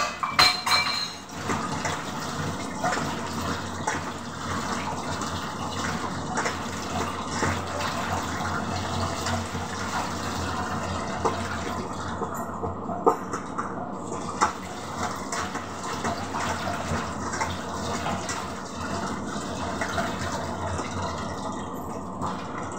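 Ridge gourd being washed under a running tap: steady water flow with intermittent clinks of dishes and utensils, close and continuous throughout.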